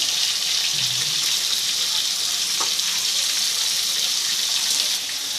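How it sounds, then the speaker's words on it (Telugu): Stuffed eggplant curry sizzles steadily in hot oil, a constant loud hiss with no voices. "ఇవైతే ఇప్పుడు నూనెలో మగ్గాలండి, బాగా నూనెలోనే మగ్గాలి కూర అంతా కూడా."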